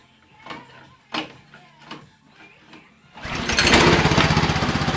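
A small petrol engine on a 350 snow mill (snow blower) catches on the second pull after a few faint clicks and handling sounds, then runs loud and steady with a fast, even chug.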